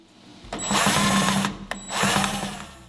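Power driver running bolts in to attach a T-Rex billet grille, two loud whirring bursts of about a second each with a brief pause between, close and alone.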